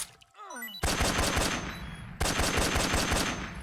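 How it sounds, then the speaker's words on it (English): Rapid sniper rifle shots from an SVD in the video game Metal Gear Solid 3, sounding as dense, loud bursts of gunfire that run almost continuously, with a short break before the second volley. "go ahead and equip the SVD. Barrels 1, 2, and we're gonna shoot the end"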